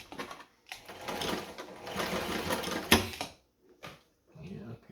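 Singer 237 Fashionmate sewing machine stitching a zigzag in short bursts, a rapid mechanical chatter that starts and stops with brief pauses between runs.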